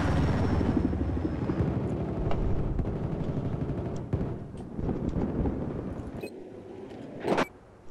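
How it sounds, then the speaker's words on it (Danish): A helicopter in a first-person shooter game, a steady loud rotor and engine drone that fills the clip, with brief gunfire-like cracks and bursts breaking through near the end. "Hey, helikopter."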